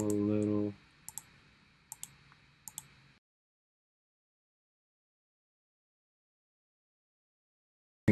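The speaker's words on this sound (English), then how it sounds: "So just kind of clicking it little by little." Computer mouse clicks while brushing a mask in Photoshop: a few sharp, close clicks spaced about a second apart, some in quick pairs, after a brief burst of voice, then silence.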